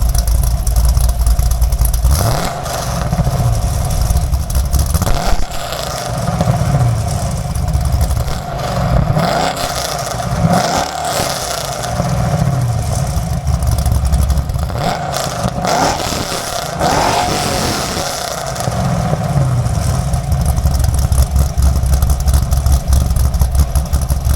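A cammed Chevrolet Camaro SS running a stock exhaust revs loudly up close, its deep idle rising into several throttle blips and drops, with clattering mechanical texture and no talking.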